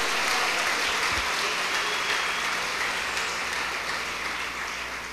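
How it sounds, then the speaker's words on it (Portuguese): A church congregation at a Sunday celebration service gives a strong round of applause, steady dense clapping that fills the room and tapers slightly at the end. "dê um forte aplauso ao Senhor em nome de Jesus"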